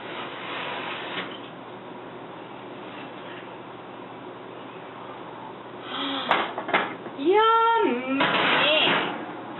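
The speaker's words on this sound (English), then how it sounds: "I'm going to take it out of the oven" A baked apple pie is lifted out of a home oven, with a clatter of the oven door and rack, a brief metallic scrape and a sliding thump close by after a quiet stretch of room tone.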